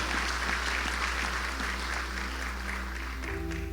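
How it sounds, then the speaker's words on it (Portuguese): Church congregation applauding God during a sermon, a dense sustained round of clapping throughout under a constant low hum, with no voice over it. "Aplaude a Deus por isso."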